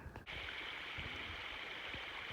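Spring water trickles and flows beside a hiking trail, a steady soft rushing hiss with faint gurgles, heard close and alone.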